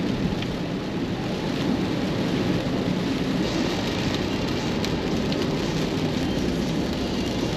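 Steady heavy rain pours down on a grey day in Amakusa, Kumamoto, Japan, a dense continuous hiss with low rumbling that may be distant thunder, loud and unbroken throughout.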